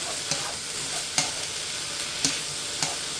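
Chicken and vegetables stir-frying over high heat, a constant loud sizzle broken by four sharp taps of a utensil tossing the pan.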